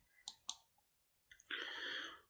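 Mouse clicks on a share button in Google Docs come as two quick, sharp clicks close together, followed by a brief burst of a brighter clicking clatter near the end. The clicks are faint and close.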